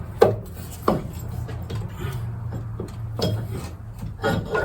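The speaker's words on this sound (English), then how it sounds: "So now we're ready to stick our new axle in." A new right axle is worked into a 1997 Honda Civic: scraping, knocking metal contacts and sliding rubs at close range, irregular and moderately loud.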